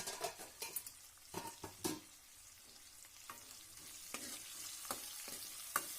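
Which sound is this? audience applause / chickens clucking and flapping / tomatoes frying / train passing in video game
tomatoes frying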